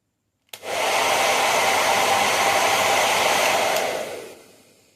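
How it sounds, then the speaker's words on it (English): A hair dryer switches on abruptly and blows with a steady, loud broadband whoosh for several seconds before winding down. "we'll fire up our hairdryer"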